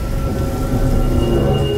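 Heavy rain pours steadily with a deep, continuous thunder rumble underneath, loud and enveloping throughout a storm, with no voices.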